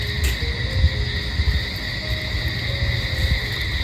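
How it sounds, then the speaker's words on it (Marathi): Crickets chirping outside at night during a roadside meal stop on a trip from Sangmeshwar to Panvel, a steady high continuous trill with faint low rumbles underneath. "बाहेर मस्त रातकिड्यांचा आवाज पण येतोय"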